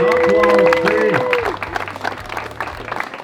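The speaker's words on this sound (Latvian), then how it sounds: "Aplausi!" Applause breaks out for the winning crew at the Riga Bass perch fishing tournament award ceremony. The clapping is loud at first over a sustained tone and then thins out as the crowd settles, with some voices mixed in.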